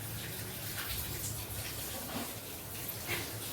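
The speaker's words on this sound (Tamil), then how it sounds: "இனிமேல் எண்ணெய் ஊற்றிடுவோம்." Cooking oil is poured into a kadai on the stove while making fish puttu, a steady soft gurgling pour that runs without a break, close by.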